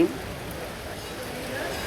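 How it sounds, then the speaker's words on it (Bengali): Continuous rain hiss fills the air in Jhenaidah Sadar, Bangladesh, even and moderately loud, with a brief voice at the very start. "এই বৃষ্টি"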